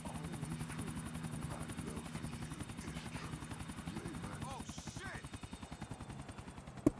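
Helicopter flying in the video game GTA The Ballad of Gay Tony, a steady rotor drone with a rhythmic chop, close and continuous, ending in a sharp louder hit.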